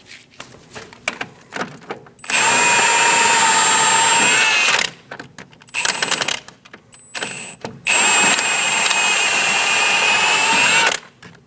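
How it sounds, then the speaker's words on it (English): A power tool whirs in two long, loud bursts of a few seconds each while removing the bottom strut bolt on a 2008-2015 Scion xB, with short clicks and triggers between them and no talking. "Remove the bottom bolt."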